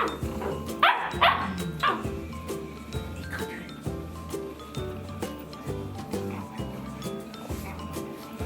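Hunting dog puppies bark and yip in a burst of several sharp calls near the start, then quieter intermittent yaps continue over steady background music.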